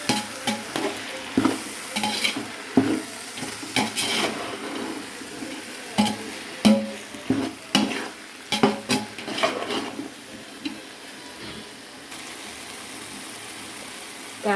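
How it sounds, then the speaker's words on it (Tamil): Soya beans sautéed in a pan, stirred with repeated scraping clatters of a utensil against metal over a steady low sizzle, the strokes coming in uneven bursts with short pauses between them. "சோயா பீன்ஸ் போடலாம். நல்லா வதக்கிடலாம்."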